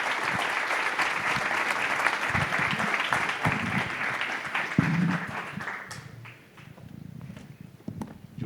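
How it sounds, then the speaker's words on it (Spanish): An audience claps for panelists at the close of a Colombian economic outlook forum, a dense, steady burst of applause that thins out toward the end. "Quiero que les demos un aplauso a nuestros panelistas"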